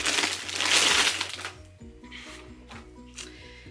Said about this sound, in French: je vais déballer.